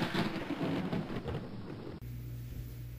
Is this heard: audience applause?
no